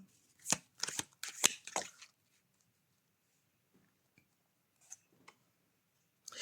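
Tarot-style cards shuffled and drawn for a reading, a quick cluster of crisp riffling snaps in the first two seconds, then near silence broken by a few faint soft card taps.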